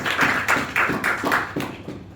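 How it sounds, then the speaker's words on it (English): A church congregation claps in unison at a Friday service, about eight sharp, evenly spaced claps in a steady rhythm, close and fairly loud. "Clap your hand for Jesus."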